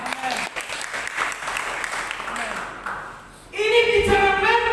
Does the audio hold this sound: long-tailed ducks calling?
no